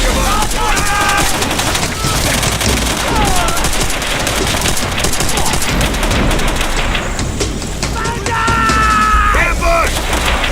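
Gunfire and a grenade blast in the World at War campaign video game, with dense rapid shots and bursts running continuously and loudly throughout, alongside a voice-like harmonic band of shouting or chatter.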